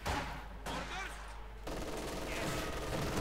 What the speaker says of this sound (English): Sniper getting off some shots and the MG42 slowly taking away their lives